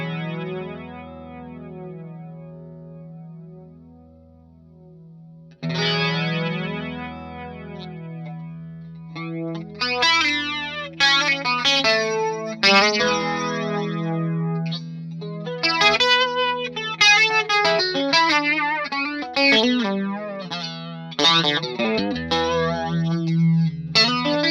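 Electric guitar played through a TC Electronic SCF Gold chorus pedal, a lone sustained chord swirling at first, then busier picked and strummed phrases with a shimmering, wide modulated tone, loud and alone without talk.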